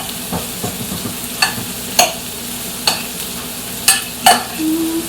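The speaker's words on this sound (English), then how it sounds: "stir together cream cheese and sage until mixed well" A spoon works stiff, not-quite-softened cream cheese and sage together in a bowl, giving a run of sharp scrapes and clicks at irregular intervals, close and clear, with no talking.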